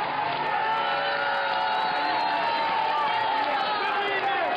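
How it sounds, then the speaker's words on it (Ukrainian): A large crowd cheers and roars in steady ovation at a street rally in Donetsk as the Vostok battalion is welcomed, a dense, continuous wall of voices with shouts mixed in. "Натовп поваціями зустрічав батальйон «Восток»."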